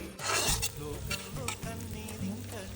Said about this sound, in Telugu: అన్నిటినీ బాగా ఫ్రై చేసుకోవాలండి ఆయిల్లో, మొత్తం దగ్గర కలుపుతూ ఉండాలి.